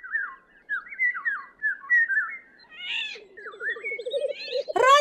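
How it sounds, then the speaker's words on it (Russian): Golden oriole calls in an animated children's cartoon about forest birds, a run of bright fluting whistles repeated one after another, followed by a lower buzzing trill and a sharp burst at the end. "Нет, это иволга кричит."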